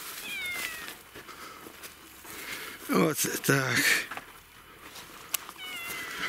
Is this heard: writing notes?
no